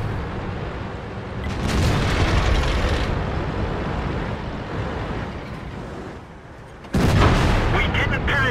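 Tank gun fire and shell impacts on enemy armor in the World of Tanks battle on the Monastery map, heavy booming blasts and rumble with a loud burst near the end, under radio-style crew voice callouts.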